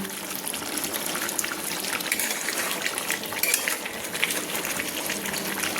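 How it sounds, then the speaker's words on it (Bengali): Chicken leg pieces and potatoes bubble at a boil in a pot for Kolkata-style chicken biryani while being stirred up from the bottom, giving a close, churning, watery burble with irregular sloshes and no talking. "তো দেখুন কি সুন্দর ফুটছে, কি সুন্দর সেদ্ধ হচ্ছে চিকেনের লেগ পিসগুলো এবং আলুগুলো সেদ্ধ হচ্ছে"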